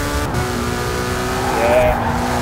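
Porsche 918 Spyder engine in Forza Horizon 4 racing gameplay, a steady loud revving drone with a sustained tonal whine through the short stretch, close and continuous.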